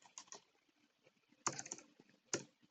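Keys clatter on a computer keyboard in short, quiet bursts of rapid keystrokes, with sharper clusters of presses standing out partway through.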